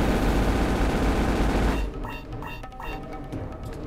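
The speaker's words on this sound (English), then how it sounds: "I fired a missile at it and unloaded all my cannons and it all hit and it's not dead?" A spaceship in a video game fires missiles and unloads its cannons in a dense, loud barrage of rapid shots that cuts off partway, leaving quieter scattered reports and electronic game tones.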